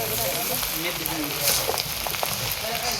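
Fried rice cooking over a fire at an outdoor mess picnic gives a steady, dense frying hiss throughout, with faint voices and background chatter mixed in.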